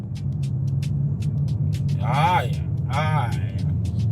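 A Volkswagen Tiguan's engine pulls through quick automatic gear shifts, a steady low rumble from inside the cabin while a voice talks over it.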